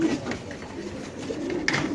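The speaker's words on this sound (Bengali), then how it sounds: "সুস্থ সবল বড় সাইজের কবুতর" Large pigeons kept for sale at a seller's place in Mirpur coo softly and close by, low throaty calls repeating over a light background hum, with no talking.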